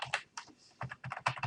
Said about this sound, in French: Je tape mot de passe.